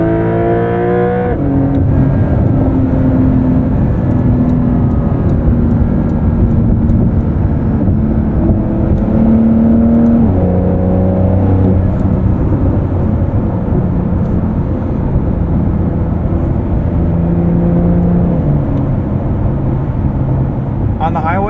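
A 2023 Porsche 911 Dakar cruises on the highway, heard from inside the cabin as a loud, steady low engine and road drone whose pitch shifts in small steps, with a voice talking over it.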